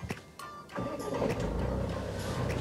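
A Tata Harrier Dark Edition's 2-litre Fiat-sourced diesel engine cranks and catches, then settles into a loud, steady idle with a rough clattering hum close by.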